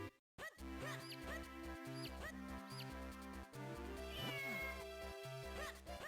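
Cat meows sound from The Legend of Zelda: The Minish Cap, heard over a steady, bouncy game music loop. Several short mewing calls rise above the music across the clip.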